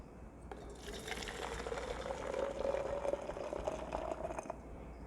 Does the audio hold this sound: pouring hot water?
yes